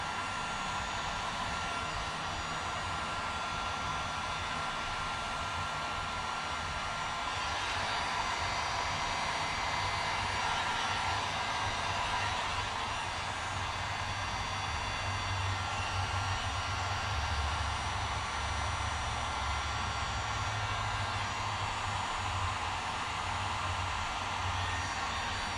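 A heat gun blows a steady, whooshing roar of hot air at close range while warming a plastic Yamaha YZ426F motorcycle shroud, its hum rising slightly in places but continuing without a break throughout, with no voices.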